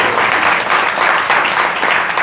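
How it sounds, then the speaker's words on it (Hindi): An audience at a devotional talk applauds, a brief burst of dense, close clapping that pulses slightly as it continues for a couple of seconds. "माता जी के लिए तालियां"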